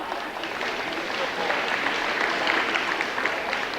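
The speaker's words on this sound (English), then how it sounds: "You can applaud for them, they deserve it all." Applause from the audience at a senior celebration event, a continuous wash of many hands clapping together, even and moderately loud with slight swells.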